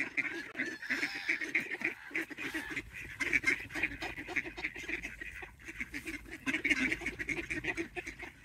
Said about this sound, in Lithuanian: Žiūrėk, gulbės atplaukė, matai gulbės?